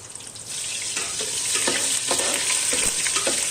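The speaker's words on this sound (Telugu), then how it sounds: "కొద్దిగా బిర్యానీ ఆకు, కొద్దిగా ఉల్లిపాయ 4 ముక్కలు వేసేసుకున్న 2 ఉల్లిపాయలు వేసేసుకొని అన్నీ ఫ్రై" Onions and bay leaf fry in hot oil in a pan for chicken machboos rice, a steady close sizzle with occasional stirring scrapes.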